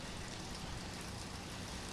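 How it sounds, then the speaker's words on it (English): Heavy rain pours down on a rugby ground before a women's rugby league match, a faint, steady hiss of falling water with no voices. "The rain is beating down quite fast here."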